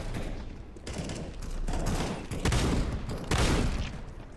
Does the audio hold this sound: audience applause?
no